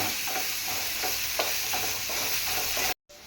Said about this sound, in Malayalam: ഒരു രണ്ട് ഏത്തയ്ക്ക ചെറുതായിട്ട് അരിഞ്ഞും കൂടി ഇട്ട് കൊടുത്ത് ഒന്ന് റോസ്റ്റാക്കി എടുക്കാം